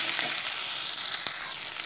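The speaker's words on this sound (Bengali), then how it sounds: "তো দেখতেই পাচ্ছেন ফ্রেন্ড আমি ভালো করে কষিয়ে নিচ্ছি।" Egg masala with tomato sauce sizzles steadily as it is sautéed in a pan, a continuous bright frying hiss with a few sharper crackles and pops, close and fairly loud with no talking.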